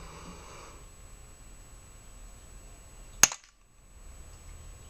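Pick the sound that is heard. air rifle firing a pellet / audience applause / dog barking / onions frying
air rifle firing a pellet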